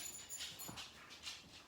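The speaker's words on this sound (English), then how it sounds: "that was my dog who came in, walking on the floor, the jingling of the collar" A dog's footsteps patter across a hard floor while a collar jingles faintly in short bursts, fairly close.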